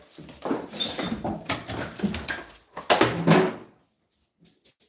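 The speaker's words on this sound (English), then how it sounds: "The dogs are coming out. They're gonna knock the chair over." Golden retrievers burst out through a door, with scrabbling, bumping movement and a brief whimper amid busy household noise, then the commotion drops to near silence with a few faint knocks.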